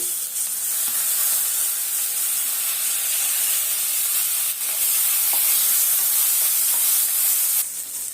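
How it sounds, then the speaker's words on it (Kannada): Moong dal and curry leaves frying in hot oil in a home kitchen for khara pongal, a loud continuous sizzling hiss that stays steady and close, with no talk. "ಕರ್ಬೇವಿನ ಸೊಪ್ಪು ಕೆ ಹೆಸರುಬೇಳೆನ ನಾನು ತೊಳೆದು ಇದನ್ನು ಎಣ್ಣೆಯಲ್ಲಿ ಸ್ವಲ್ಪ ಹುರ್ಕೊಂಬಿಡೋಣ"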